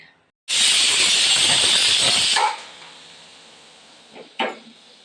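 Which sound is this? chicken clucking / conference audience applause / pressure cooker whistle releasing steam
pressure cooker whistle releasing steam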